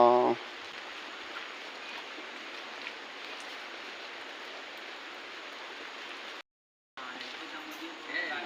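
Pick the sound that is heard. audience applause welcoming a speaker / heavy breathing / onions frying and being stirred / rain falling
rain falling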